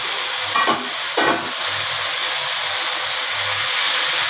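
Vegetable curry of pumpkin and ridge gourd sizzles loudly in a pan as it is stirred, with two quick scraping strokes of a ladle over a continuous close-up frying hiss.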